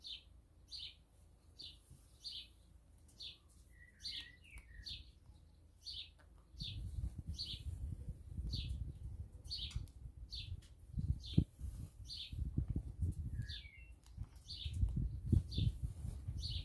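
Small birds chirp outdoors in regular repeated high tweets, moderately close, over a faint rumbling background that grows louder partway through.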